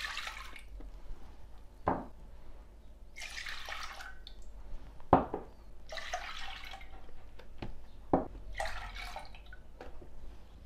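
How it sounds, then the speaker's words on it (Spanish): Milk, about four cups, poured into a cooking pot, producing soft intermittent splashing and liquid bursts with a few sharp clicks, close and fairly quiet. "Añadimos la leche en una olla."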